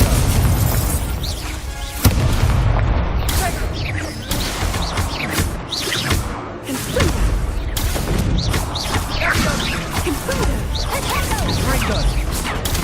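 Spells crack and boom in Hogwarts Legacy, including the Incendio fire spell, in a dense, loud run of whooshes, blasts and impacts with hardly a pause.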